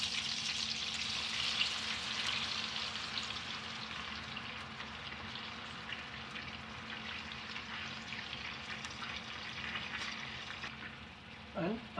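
Salmon pan-frying in lemon butter with lime juice, a continuous soft sizzle and crackle at moderate distance, with a few faint clinks near the end.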